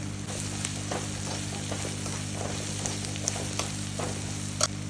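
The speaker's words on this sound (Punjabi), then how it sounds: "ਇਹਨਾਂ ਸਾਰੇ ਮਸਾਲਿਆਂ ਨੂੰ ਚੰਗੀ ਤਰ੍ਹਾਂ ਭੁੰਨ ਲਈਏ" Spices sizzle steadily in a hot pan for arbi sabzi, with Kashmiri red chilli, turmeric, garam masala, ginger, garlic and green chilli, a continuous close frying hiss broken by a few faint stirring clicks and no talking.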